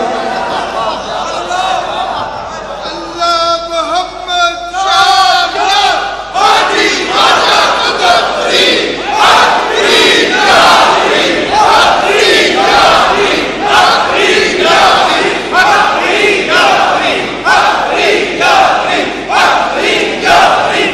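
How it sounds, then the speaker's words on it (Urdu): A large crowd at the Data Darbar shrine chants religious slogans in praise of Baba in loud, rhythmic call-and-response bursts that repeat steadily, near and dense. "داتا کی بارگاہ میں بابا کے نعرے لگ رہے ہیں"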